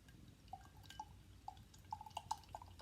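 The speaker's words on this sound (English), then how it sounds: "Very effervescent. I can hear those bubbles." Carlton Dry lager fizzing in a glass, faint crisp bubble pops and tiny droplet clicks scattered irregularly over quiet background.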